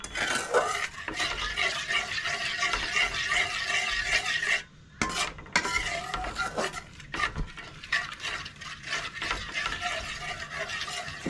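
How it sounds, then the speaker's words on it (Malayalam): A spoon stirs a milk and cornflour mixture in a hot pan for butter garlic bread with egg, continuous scraping and clinking against the pan with a short pause in the middle. "നന്നായി ഇളക്കി ചേർക്കണം കേട്ടോ."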